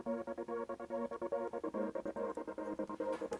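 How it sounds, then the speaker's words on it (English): A Nexus synth pad chopped by Gross Beat automation into fast rhythmic gated pulses drives the drop of an electronic dance track, loud and relentless with evenly spaced stutters throughout. "the automation goes on for the gross beat and goes like this."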